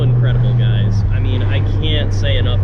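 A turbocharged Toyota GT86 with an open dump exhaust drones loudly and continuously, a deep steady engine rumble with whooshing turbo and airy dump noise layered above, heard up close.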